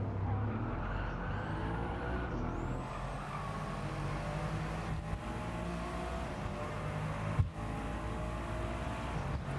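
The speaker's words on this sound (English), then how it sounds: "that raw, brutal nature of the Aston's V8" An Aston Martin V8 in the Gran Turismo 7 racing game growls steadily and loud through a long run, its engine note rising and falling as it accelerates, with a couple of brief clunks and no talking.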